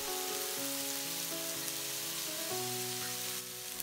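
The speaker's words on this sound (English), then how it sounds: "Always stir while adding ingredients, so the food at the bottom doesn't burn." Beef, vegetables and lotus root stir-fry in a pan for Szechuan mala xiang guo, a steady close sizzle running throughout beneath background music.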